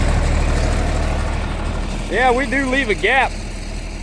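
A tractor engine runs at a steady idle while it sits ready for bean planting, a low continuous drone that carries on under someone talking nearby.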